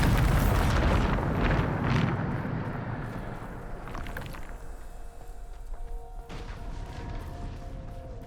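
Bombarda blasting spell in Hogwarts Legacy, a loud booming explosion at the start that rolls into a long fading rumble and debris, followed by quieter ambient tones, no talk.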